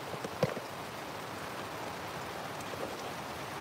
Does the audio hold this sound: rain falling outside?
yes